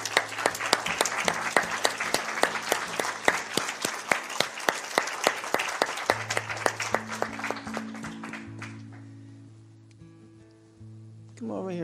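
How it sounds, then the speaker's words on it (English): A church congregation applauds the reverend with loud, dense clapping that gradually thins out and fades as it goes on, while sustained organ or keyboard tones play underneath. "Can we all give Adam a hand clap?"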